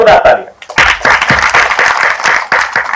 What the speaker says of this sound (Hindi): वाह, जोरदार तालियां।